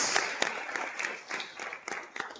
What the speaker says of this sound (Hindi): ताली बजाएं यीशु मसीह के लिए एक बार। इनको जोर से बजा सकते हैं।